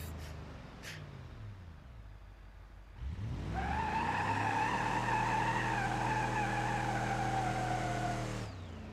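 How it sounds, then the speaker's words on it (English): A turbocharged Roamer in BeamNG.drive roars into a burnout after a quiet idle, its engine revving steadily with a sustained tire squeal layered over it for several seconds before cutting off. "Let's see what kind of a burnout it does."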